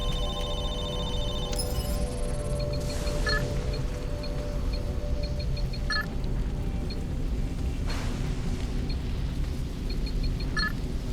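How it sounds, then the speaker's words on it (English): A phone rings in short repeated bursts over a loud, low rumbling soundscape in Halo 3: ODST, on the Mombasa streets. "And then a random phone will start ringing"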